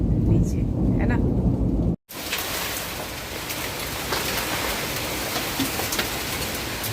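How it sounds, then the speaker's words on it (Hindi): Heavy rain with thunder, first a low rumbling roll under faint background sounds, then after a short break a steady loud downpour hissing on surfaces throughout. "इसके पहले जो झमाझम बारिश हुई उसका आप लोग आनंद लीजिए"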